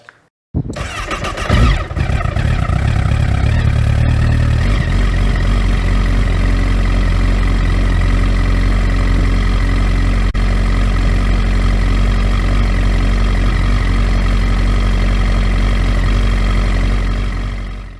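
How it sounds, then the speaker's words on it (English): A 2008 Honda CBR1000RR motorcycle with a check engine light on cranks and catches, then settles into a steady, loud, rumbling idle that runs on close by without a break. "the Snapchat I took of my bike starting up and the check engine light"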